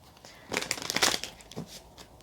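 Tarot cards being shuffled by hand, a short burst of papery riffling and crinkling swells up near and fairly quiet, then fades with one last soft flick.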